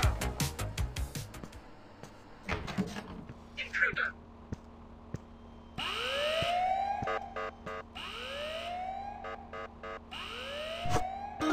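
Wailing alarm siren in the video game Ice Scream, with repeated rising sweeps from about six seconds onward, loud and steady, after a stretch of game noises and clatter.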